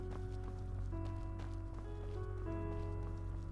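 Horse hooves in the Skyrim mod Enderal Forgotten Stories, a horse near a tower: soft, irregular clopping steps under a constant game music drone and background ambience, fairly faint.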